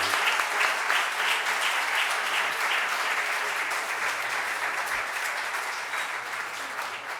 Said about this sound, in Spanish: bueno, pues yo creo que vamos a cerrar, pues muchos aplausos, creo.